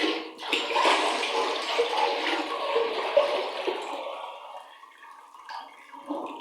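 Hot water being poured straight into a clogged toilet bowl, a steady rushing splash that fades gradually over several seconds, with no talk.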